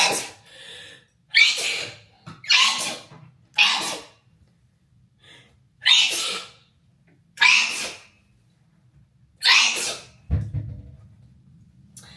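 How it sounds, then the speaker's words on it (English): Several sharp, forceful sneezes in quick succession, loud and close, with brief pauses between them and a low breathy rustle at the end. "Hold on, I'm about to sneeze."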